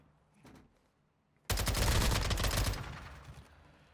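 Gunfire finishing off an enemy in Warzone 2.0, a faint shot followed by one sudden, loud, close burst of rapid automatic fire that trails off.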